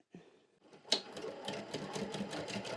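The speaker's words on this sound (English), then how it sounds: "So we're going to sew these two squares together with a 1/4 inch seam" Sewing machine stitching two fabric squares together with a quarter-inch seam for quilting, starting after a faint click and running in a close, steady, rapid mechanical chatter.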